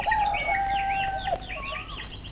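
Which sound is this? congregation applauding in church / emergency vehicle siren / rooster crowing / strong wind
rooster crowing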